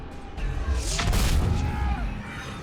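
A big explosion booms during Mass Effect 3 gameplay, a loud crash with a long rumbling tail lasting a couple of seconds.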